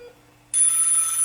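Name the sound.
telephone bell ringing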